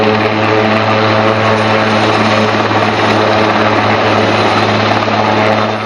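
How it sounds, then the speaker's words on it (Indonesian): A toy helicopter gives off a loud, steady whirring drone with a constant buzzing tone, heard continuously and close up with no speech. "ada helikopter"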